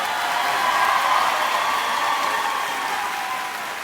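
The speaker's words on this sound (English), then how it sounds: "Please give these students a round of applause." Audience applause at a 2023 high school graduation ceremony, steady dense clapping from a large crowd that holds, then tapers slightly toward the end.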